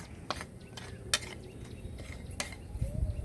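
Fertilizer is mixed into potting soil while repotting a tecoma seedling, giving faint, irregular scraping and sharp clicking taps with no voices.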